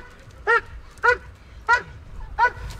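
Dog barking during a police arrest, four sharp evenly spaced barks close to the mic over a low background hum.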